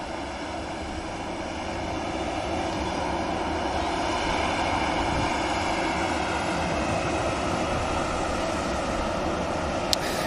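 Turkish Airlines airliner departing Manchester Airport for Istanbul, its engine roar a broad steady wash that swells slightly and holds at moderate distance, with no voices over it.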